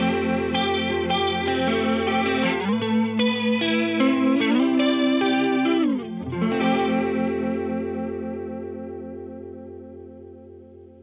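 Electric guitar through a Boss CE-1 reissue chorus ensemble pedal, with shimmering, wavering chorus on sustained chords and a melodic phrase, ending on a long fading chord with no talking.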